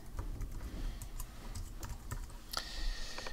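Steady typing on a computer keyboard, a quiet patter of light key clicks at an uneven pace, close by and with no talk over it.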